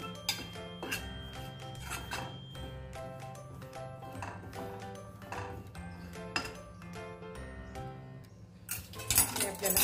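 A spoon scrapes and rubs against a hot wok while gram flour is stirred and dry-roasted. The scraping comes in repeated close strokes with occasional metallic clinks, and it is fairly quiet.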